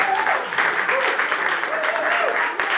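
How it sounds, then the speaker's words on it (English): A stand-up comedy crowd claps loudly and continuously in a theater, a full wash of applause with a comedian's voice speaking over it. "I'm glad you're clapping for that woman getting her ass kicked."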